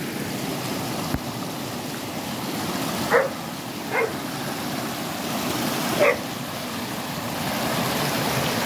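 A dog barks three times, spaced apart, over a steady rushing background of flowing water or surf, in the dark.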